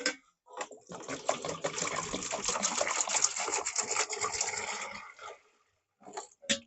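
Hot water runs steadily from a tap into a bowl of washing-up liquid for washing up after cooking on a wood burner stove. A rushing stream lasts about four seconds, then stops, followed by a few faint splashes and clinks.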